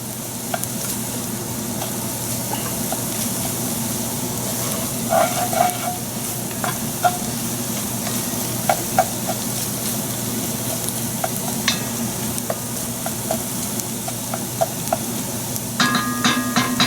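Pickled garlic sizzles steadily in a pan while shrimp étouffée is being cooked, a continuous loud frying hiss with occasional stirring scrapes and small pops, and no talking.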